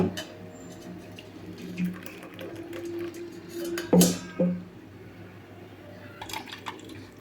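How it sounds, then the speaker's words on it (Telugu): Liquid trickles and drips quietly, with a few sharp clinks of metal utensils and brief louder splashes partway through. "ఇప్పుడు ఒక స్ట్రైనర్ పెట్టుకొని అయితే వంపేసుకుందాము."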